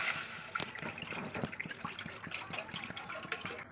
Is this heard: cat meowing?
no